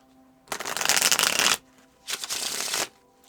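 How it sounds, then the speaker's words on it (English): Tarot cards are shuffled by hand in two bursts, a long riffling rush followed by a brief pause and a second shorter shuffle, close and crisp with no talking. "Let's shuffle this again."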